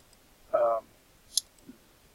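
A computer mouse gives a single sharp, faint click after a short burst of nearby talk, then the scene falls quiet.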